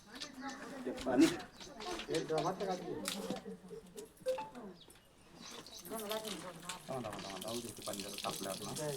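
Tap water runs steadily outdoors during a cobra snake rescue. Several people talk loudly over much of it, partly masking the flow.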